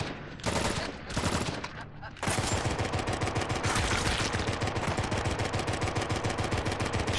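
Sustained gunfire in the video game Drawn to Death: a few loud bursts in the first two seconds, then a continuous rapid automatic stream of shots filling the rest, loud and dense, with no voices.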